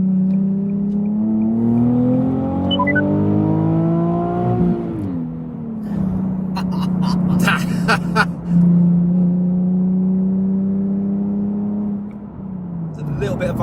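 A Nissan 370Z with its muffler deleted revs up, the raw exhaust note climbing steadily in pitch for several seconds, then dropping back and holding a loud, droning rumble nearby.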